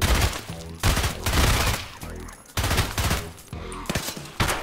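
Repeated bursts of automatic gunfire in Escape from Tarkov, loud and close, coming in several clustered volleys separated by brief lulls.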